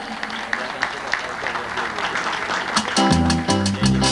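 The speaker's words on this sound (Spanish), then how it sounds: "Un fuerte aplauso para ellos." Crowd applause, a dense patter of many hands clapping, with loud music chords joining toward the end.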